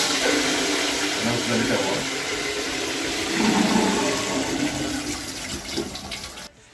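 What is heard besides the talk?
toilet flushing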